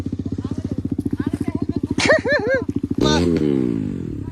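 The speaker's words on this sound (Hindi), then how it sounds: "लाइन अप हो रहे हैं सभी बाइक" Several motorcycles idle and rev as riders line up for a group ride, a steady pulsing engine throb up close with blips of throttle, while people talk and call out over the engines.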